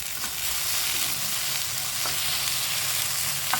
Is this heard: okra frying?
yes